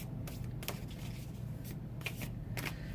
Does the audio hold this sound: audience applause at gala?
no